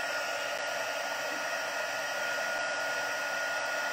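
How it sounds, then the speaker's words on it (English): Heat embossing tool blowing hot air over embossing powder, a loud, steady, continuous whoosh like a hair dryer running close by without pause. "let's go ahead and heat emboss this, and pardon if it's too loud."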